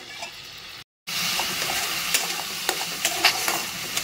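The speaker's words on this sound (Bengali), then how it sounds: "আমি এবার এর মধ্যে অল্প সামান্য একটু জল দিয়ে কষিয়ে নেব" A spice paste loosened with a little water is roasted and stirred in a hot pan, giving a steady close sizzle with scraping strokes and faint ticks that continue after a brief dropout.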